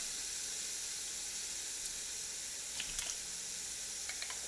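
Garlic frying in a pan gives a continuous close sizzle, with a few sharper pops and crackles breaking through near the end.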